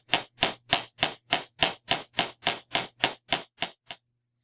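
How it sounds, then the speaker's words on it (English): Chasing hammer striking the back of a silver ear wire in jewelry making, about fourteen crisp metallic taps at an even pace, close and clear with no talking. "I'm going to start to hammer out the back of the ear wire"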